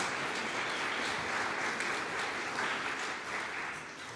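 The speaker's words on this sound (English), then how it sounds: "Yeah, you can clap for him." Steady, full audience applause at a choral concert fills a hall for several seconds, a continuous broad wash of many hands that tapers slightly at the end.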